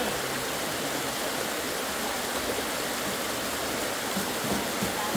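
River water rushes steadily in a broad, loud, unbroken wash while a vehicle is cleaned in the river, with no speech over it.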